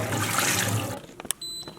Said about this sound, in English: Having warm water is just better for rinsing the oil out.